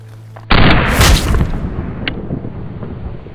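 A single loud, close gunshot from a 5.7x28 firearm loaded with Speer Gold Dot ammunition, a sharp broadband blast followed by a decaying echo and rumble over about two seconds.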